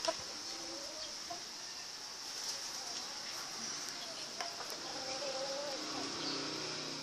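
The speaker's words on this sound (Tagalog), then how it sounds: "Ayun po si Tarantadong Manok" Chickens cluck intermittently in an outdoor setting, with a steady high background hum and faint activity around them.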